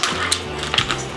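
Crunchy fried maya-maya fish chicharon is chewed up close, giving several quick, crisp crackling crunches in an irregular rhythm over about a second.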